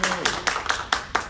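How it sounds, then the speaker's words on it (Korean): At an online general meeting of a Daejeon civic group, a few people clap in unison. Five or six sharp, loud claps come at an even pace, close by. "박수 한번 크게 치고 시작하겠습니다."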